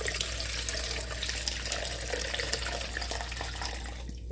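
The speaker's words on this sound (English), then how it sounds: "I'm going to start dumping this liquid out." Liquid poured steadily out of a Star Trek snow globe into a measuring cup, a continuous close splashing trickle with no talking.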